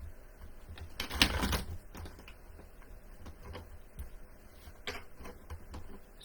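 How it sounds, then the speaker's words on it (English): Tarot cards shuffled by hand, giving soft rapid riffling and ticking bursts, one louder flurry early on and lighter taps after, close and quiet with no talking. "I already did a good shuffle on the tarot, but I'm going to shuffle one more time."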